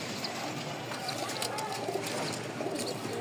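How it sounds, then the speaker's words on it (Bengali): Pigeons cooing softly among a seller's birds, including young ones, with a steady background wash and faint nearby chatter. "এই দেখেন বাচ্চা সহ কিছু কবুতর নিয়ে আসছে"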